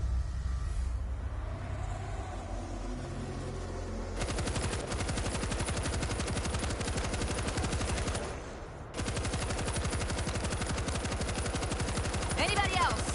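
A stationary machine gun in World War Z, firing in long sustained rapid bursts, loud and close, with a short pause partway through before the firing resumes.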